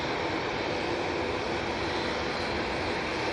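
Steady broadband roar of a Boeing Dreamliner jet at Manchester Airport, a constant loud engine wash with no breaks and no voices.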